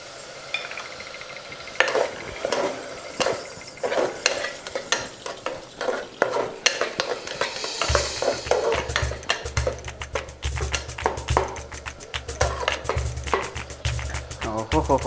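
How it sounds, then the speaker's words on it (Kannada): Curd being poured in and stirred through frying methi bath in a single pot, a steady scraping stir over a continuous sizzle that grows louder partway through, with occasional utensil clinks. "ಇವಾಗ ಆವಾಗಲೇ ಮೊಸರು ತೊಗೊಂಡಿದ್ನೆಲ್ಲ ಮೊಸರು ಹಾಕ್ತಾಯಿದ್ದೀನಿ"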